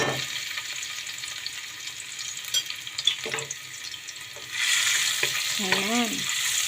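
Garlic sautéing in a frying pan, bursting into a loud, steady sizzle partway through after quieter kitchen clatter, with a brief squeaky scrape near the end.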